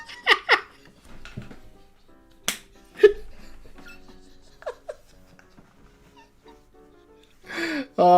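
A pet dog whimpers indoors in brief, scattered whines and yelps separated by near-silence, with occasional soft thumps and breaths between them.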